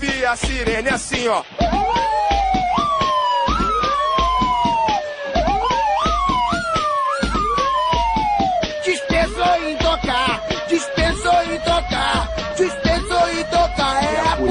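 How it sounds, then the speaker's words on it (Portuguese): A loud police siren wails in rising and falling sweeps, repeating steadily over a pulsing beat for the whole stretch. "A sirene assim, ó."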